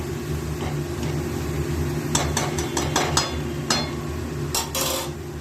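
Cabbage is stirred in a pan with a utensil, giving a run of sharp metallic clinks and scrapes in the middle and end of the clip over a steady kitchen hum, with no one speaking.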